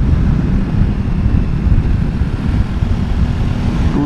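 A continuous low KTM 990 Adventure motorcycle engine drone with heavy rushing air noise, steady and loud as if recorded while riding, with no voices.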